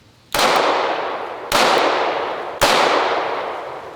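Three sharp, loud pistol reports from a PSA Dagger Compact 9mm Glock-style handgun at a shooting range, fired singly about a second apart, each with a bright crack and a long ringing decay, and no voices.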